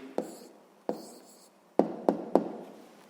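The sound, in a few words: writing the answer on paper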